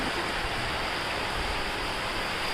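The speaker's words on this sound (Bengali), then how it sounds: "তো আপনারা দেখুন কীরকম বৃষ্টিটা পড়ছে।" Rain falls steadily on a street during an evening storm, making a soft, even hiss that stays constant and fairly faint throughout, with no voices.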